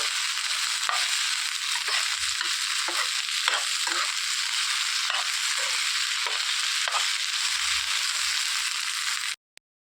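Okra pieces fry in a pan with a loud, continuous sizzle, broken by periodic stirring scrapes, before cutting off abruptly near the end.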